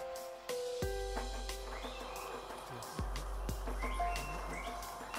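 A turquoise-browed motmot calls in Yucatán scrubland on the Riviera Maya, with a few low, hollow hoots spaced apart amid chirping from other birds and faint background insects.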